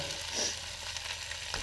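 Bird meat frying in a pan, a brief close sizzle with a soft scrape of stirring, no voices.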